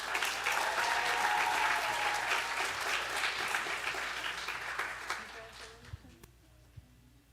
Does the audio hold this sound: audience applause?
yes